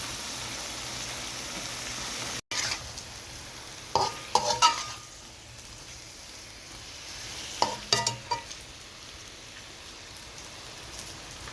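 Spice paste is frying in a pan for an eggplant and fish dish, with a soft, steady sizzle. Two clusters of stirring scrapes stand out, the first after a brief break near the start.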